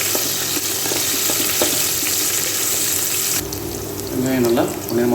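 Sliced big onions frying in oil in a pan for mushroom biryani, a steady close sizzle with occasional stirring scrapes, and a voice talking over the end.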